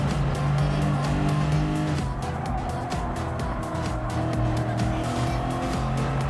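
A GR.3 race car in Gran Turismo 7 at Suzuka, its engine droning loud and steady throughout, with tire squeal and pitch shifts as it lifts and brakes through corners.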